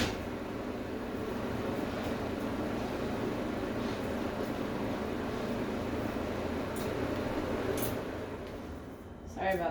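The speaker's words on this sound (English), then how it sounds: "Forgot to turn the fan off." An electric fan runs in a home kitchen as a steady, fairly loud broadband whir that fills the whole stretch, with a couple of faint clicks near the end.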